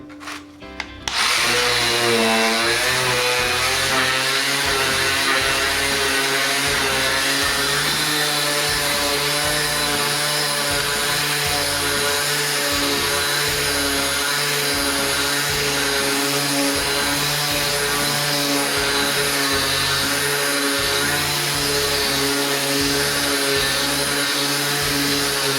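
An electric sander from a Harbor Freight haul runs continuously on a scrap test board, a loud steady whine and rough grinding rub that holds nearly unbroken for about 24 seconds after a brief start.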